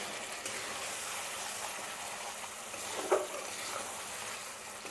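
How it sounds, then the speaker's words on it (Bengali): Chicken sautéing in a pan for chicken tahari gives a steady, fairly quiet sizzling hiss throughout, with one soft knock partway through and no talking. "মাংস তো আমার কষানো হয়ে গেছে।"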